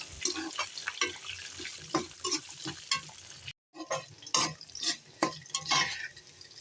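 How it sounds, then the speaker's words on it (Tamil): Curry leaves and shallots frying on a low flame for garlic kuzhambu, with a steady soft sizzle and repeated scraping stirs of a spoon in the pan, and a brief silent gap partway through. "இப்போ இது நல்லா வறுத்துக்கலாம். அடுப்பை லோ ஃப்ளேம்லேயே வச்சு வறுத்துக்கோங்க."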